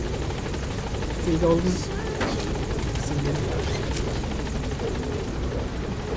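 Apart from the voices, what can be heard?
Pequod helicopter in the video game Metal Gear Solid V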